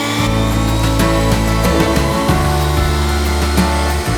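A powerful Dnipro-M DCB-202BC Dual cordless leaf blower roars at high speed in turbo mode, its drone shifting pitch as it runs, with sporadic crackling ticks of gravel.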